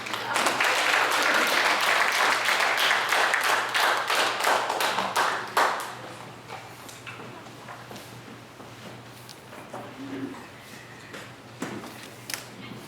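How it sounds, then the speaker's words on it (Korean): A hall audience applauds at a Korean literary society's literary evening as the association president comes to the stage, loud dense clapping for about six seconds that then thins to scattered claps and quiet room noise. "회장님 박수로 맞이하겠습니다."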